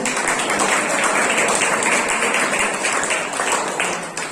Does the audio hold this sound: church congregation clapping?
yes